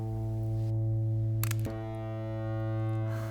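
An electric guitar played through an overdrive distortion effect rings out a sustained, buzzing harmonic-rich chord, with a brief pick scrape and re-strike midway, steady and close.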